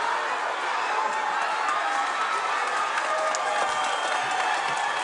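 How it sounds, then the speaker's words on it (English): A packed boxing arena crowd roars and cheers without a break through a fight between Rirothe Randima and Martin Prinsloo, a dense wall of voices with scattered whoops and claps, loud and close all the way through. "It's deafening in here. It really is. The crowd really is on us."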